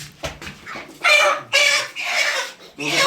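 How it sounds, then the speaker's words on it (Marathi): Broiler chickens at a chicken shop cluck and squawk in close, loud bursts, several birds calling over one another in quick succession. "मी आज चिकन सेंटर मध्ये आलोय दाखवतो तुम्हाला या कोंबडी"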